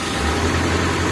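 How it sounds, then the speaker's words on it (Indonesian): A car engine running at a steady idle just after starting, a loud, close, continuous low rumble with an even drone and no voices. "Setelah itu kita nyalakan mesinnya"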